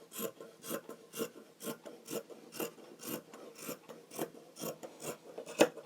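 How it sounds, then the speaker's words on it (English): Fabric being cut for a summer dress, likely with scissors, gives a steady run of about a dozen short rasping snips at an even rhythm, close and fairly quiet with no talking. "And then I'm also gonna cut here."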